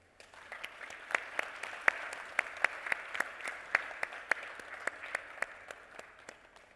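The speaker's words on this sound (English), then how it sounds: "can we have a round of applause" A business forum crowd welcomes the President of Ghana with steady, moderate applause, individual sharp claps standing out above a soft, continuous patter heard from a little distance.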